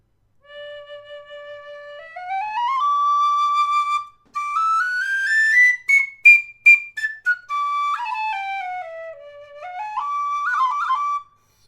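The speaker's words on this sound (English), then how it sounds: "it's about the easiest to play inexpensive high D whistle" A tin whistle plays a clear, bright melody up close, with rising and falling runs, a few quick staccato notes, and sustained high tones.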